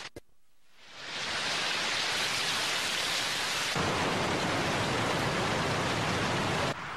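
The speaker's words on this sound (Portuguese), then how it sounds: "Chovendo." Cartoon sound effect of rain falling, a heavy steady hiss that swells in after a brief quiet start and holds loud and unbroken, like a downpour on surfaces.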